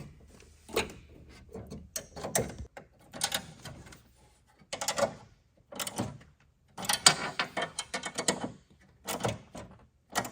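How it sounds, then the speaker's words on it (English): A 10mm wrench and 5mm Allen key snug a bolt on an LED grille light kit for a 2019-2024 Ram 1500, producing intermittent close metallic clicks, rattles and scrapes in irregular short bursts. "with a 10mm wrench on the backside and a 5mm Allen, let's just snug that down"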